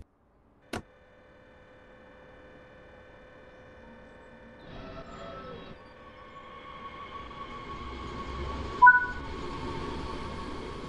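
DB BR 422 electric multiple unit in Train Sim World 3 starting to move, a sharp click, then a quiet rising motor whine and rolling hum that builds gradually, with a brief louder clunk near the end.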